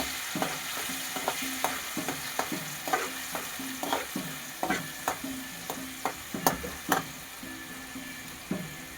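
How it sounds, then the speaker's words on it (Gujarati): Grated onion and tomato are stirred in a hot pan for a restaurant-style chole chana curry, with a steady rhythm of close scraping strokes over a constant low sizzle. "આપણે ડુંગળી ટમેટા ખમણેલા એ નાખી દેવું. પછી આપણે એને મિક્સ કરી નાખશું આ રીતનું."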